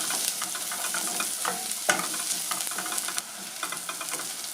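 Cabbage fries in a pan, giving a steady, close crackling sizzle with stirring clatter and a sharp scrape near the middle, slightly quieter toward the end; no one speaks.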